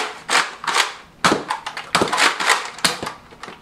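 A Nerf Elite Rough Cut 2x4 blaster fires foam darts in a quick string of sharp, close snapping pops with brief gaps, several shots in a few seconds.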